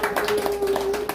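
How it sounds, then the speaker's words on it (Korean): A small audience at a Korean business academy's opening ceremony claps to welcome a returning graduate, giving quick, fairly close hand claps over a steady faint hum. "박수로 환영해 주시면 좋겠습니다."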